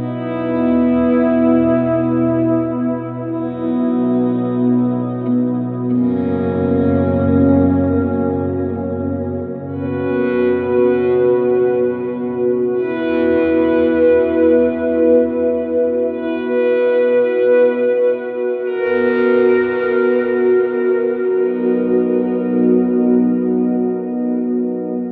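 Slow electric guitar volume swells through heavy ambient effects, echo, reverb and chorus, sustained and layered, rising in low and high registers as in a worship song intro, loud and continuous with no talking.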